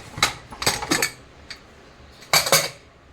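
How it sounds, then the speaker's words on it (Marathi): A pressure cooker lid is opened after three to four whistles of cooking pumpkin (dangar), giving a few sharp metallic clinks and clatters in irregular bursts, close and fairly loud, with quiet pauses between and no talking. "आता आपण कुकर खोलून घेऊया"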